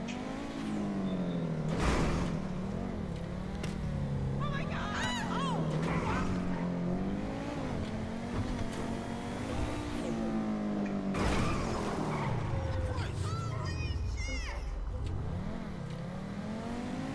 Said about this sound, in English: See, look, even the Osiris seems to be moving faster.